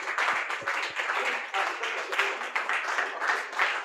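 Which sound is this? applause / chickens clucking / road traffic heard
applause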